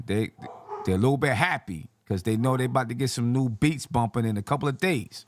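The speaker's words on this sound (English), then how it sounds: "Excuse my dogs in the back." Several excited dogs bark and yip in the background of a room while someone talks continuously over them in the foreground.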